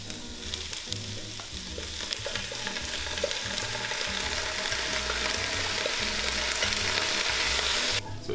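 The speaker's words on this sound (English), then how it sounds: "it's very important to keep stirring" Arborio rice frying in a pan for risotto, a steady loud sizzle with scraping stir strokes throughout, alone with no talk.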